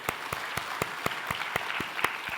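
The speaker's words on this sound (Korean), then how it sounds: "박수 한번 쳐드릴까요?" Church congregation clapping in applause during a Wednesday sermon, a steady rhythmic clap of many hands at an even beat, moderately loud and close, with no talk over it.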